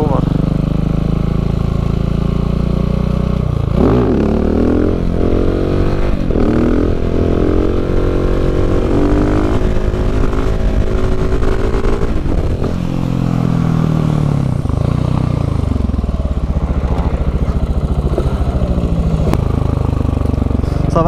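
A motorcycle engine roars loud and close during wheelie training, revving up and down repeatedly with rising and falling pitch over heavy wind rumble, and a voice speaks over it.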